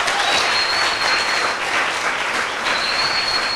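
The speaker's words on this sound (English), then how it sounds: "So massive round of applause for my mom." A wedding reception crowd at Meerendal claps steadily and loudly in dense, sustained applause, swelling slightly before easing off, with no one speaking.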